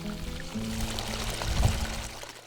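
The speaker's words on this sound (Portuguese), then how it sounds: "Os produtores usam uma espécie de mangueira para retirar a água." Water drawn with a hose from a furrow-irrigation canal on a small farm plot, a steady pouring, splashing flow that swells midway and stays close and fairly loud, with no talk.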